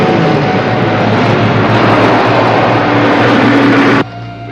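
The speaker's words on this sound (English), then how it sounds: "Helicopter's given our position away." Dense rumbling rotor and engine roar of a helicopter overhead in a 1960s television action episode, loud and steady, cutting off abruptly near the end.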